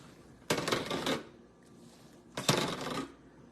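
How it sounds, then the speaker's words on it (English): Two separate bursts of close sawing as a knife slices through a loaf of homemade protein bread, each about half a second long, with a short quiet gap between them and no talk. "I'm gonna cut them in those indentations that I see"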